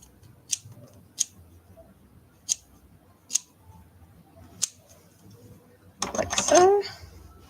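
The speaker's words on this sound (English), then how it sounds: "So I'll have to give this a trim and make sure it fits." Scissors snip at the fur of a grey-headed flying fox taxidermy mount, five or six sharp, isolated cuts spaced apart in a quiet room, followed by a brief louder burst of handling noise at the end.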